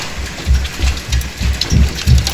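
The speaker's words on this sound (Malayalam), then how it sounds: "വലിയൊരു കൊടുങ്കാറ്റ് വിത്ത് ഹെയിൽസ്," A hailstorm with strong wind in Orlando pounds outside, loud and heavy, with rumbling bursts roughly every third of a second over a constant roar of falling ice and rain.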